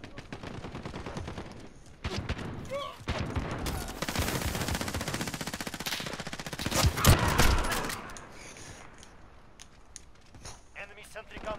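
Automatic gunfire from an enemy sentry gun in Call of Duty: Modern Warfare, a dense run of rapid shots across most of the span, peaking loudest in the middle, mixed with other game noise and a voice talking.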